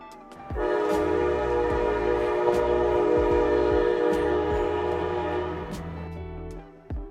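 An Amtrak Pacific Surfliner train horn blares in one long, loud, sustained blast, with the rumble and clatter of the passing train underneath.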